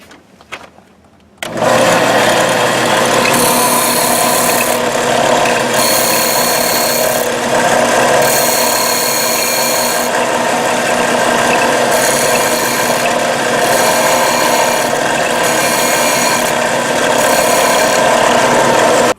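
Bench grinder or sharpening tool starting up and running steadily while an edge is sharpened for golf club restoration, a loud continuous whirring with several rhythmic stretches of harsher grinding contact, close and with no talking.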